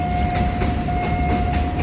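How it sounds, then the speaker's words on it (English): A freight train passes over an iron rail bridge in Bangkok, making a steady, loud rumble with a sustained high-pitched metallic squeal running through it. "you still have freight trains coming through"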